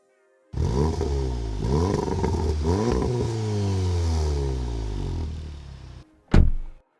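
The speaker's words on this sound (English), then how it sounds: "this updated diffuser that still wraps around a quad-tipped exhaust system" A Mk 7.5 VW Golf R's quad-tipped exhaust revs hard several times, rising and falling in throaty bursts, then holds a long droning note before a final sharp blip.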